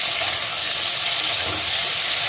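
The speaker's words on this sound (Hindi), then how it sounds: "घी गर्म हो चुका है, अब इसमें ये कटे हुए टमाटर और प्याज डाल के सेकेंगे।" Chopped tomatoes and onions sizzle loudly in hot ghee, a dense, steady frying hiss that fills the whole moment with no voices over it.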